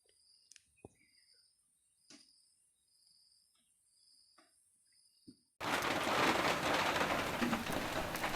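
Rain on a cold, rainy day: a quiet stretch of sparse drips and faint insect-like chirps, then a sudden steady, loud hiss of rainfall that fills the rest, with no voices.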